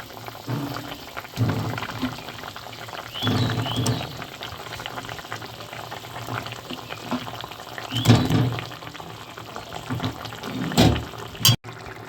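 Fried soybean muitha dumplings dropped into a simmering potato curry, with a steady bubbling, boiling simmer throughout and a few louder splashy surges as the pieces go in.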